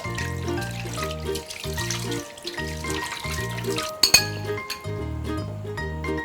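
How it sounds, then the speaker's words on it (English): Tap water runs into a kitchen sink while raw chicken is washed by hand for egusi soup, a steady splashing trickle broken by clinks of pots and a few sharp knocks, heard against a repeating musical backing. "We'll now take our chicken, then wash it."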